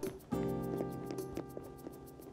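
Soft, rain-like patter against a window in the Animal Crossing video game, light irregular taps over a steady musical background, with no talking.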